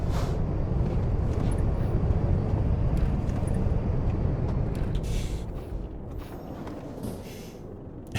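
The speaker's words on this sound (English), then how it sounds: "It's the sound of the truck falling apart." A heavy truck in a trucking video game rumbles and rattles steadily as it falls apart, a dense, loud mechanical noise that eases off slightly toward the end.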